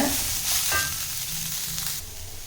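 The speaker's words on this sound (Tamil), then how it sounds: "இப்போ இந்த முருங்கைப்பூ போட்டு வதக்கிக்கலாம் நல்லா சுருளாக வதக்கிக்கோங்க" Drumstick flowers sauté in a pan with a little oil, producing a continuous close sizzle with a few stirring scrapes that fades slightly toward the end.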